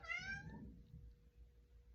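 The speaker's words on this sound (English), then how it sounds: "that's my cat just yelling at me" A pet cat gives one loud, drawn-out meow close by at the start, then falls quiet over a low room hum.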